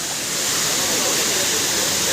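A waterfall on a spring-fed river at Indang Falls pours in a steady, dense, close roar of rushing water that holds unchanged throughout, with no voices heard.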